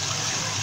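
A steady, rushing pour of water into a cooking pot while stuffed quail is being prepared, loud and close, filling the short moment without pause.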